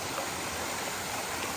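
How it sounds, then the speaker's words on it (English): Mountaineer Falls, a waterfall on the Appalachian Trail, making a steady broadband rush of falling water that holds constant and fairly close with no voices. "this is Mountaineer Falls."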